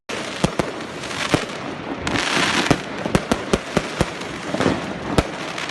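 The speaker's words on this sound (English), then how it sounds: "Ajax fans set fireworks off outside Real Madrid stadium." Fireworks set off by Ajax fans outside the Real Madrid stadium: a series of sharp, loud bangs at irregular intervals over a continuous crackling roar.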